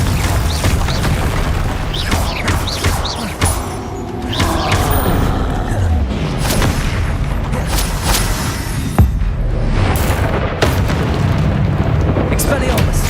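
Repeated booming spell blasts from the Confringo fire-explosion spell in Hogwarts Legacy, layered dense and loud over continuous game music and combat effects, with sharp bursts recurring throughout.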